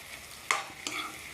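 Chopped onion and tomato dropped into a hot tempering for a dhaba-style garlic fenugreek curry, two quick, faint sizzling bursts as the pieces hit the oil, with quiet pan noise between.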